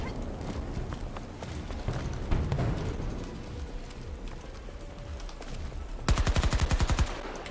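Gunfire in the video game Battlefield 2042: muffled battlefield ambience, then a loud rapid burst of about a dozen closely spaced shots near the end.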